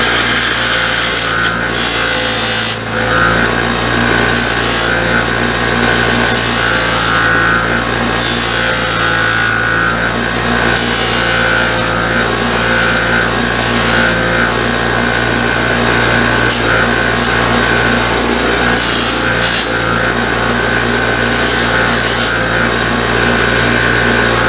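A buffing wheel polishes an axe head, a Hudson Bay axe, producing a loud, continuous motor whine and grinding rub that carries on steadily and alone.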